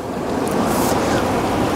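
Ocean waves surge and recede at Piha beach, a loud continuous wash of surf close by, with wind buffeting the microphone.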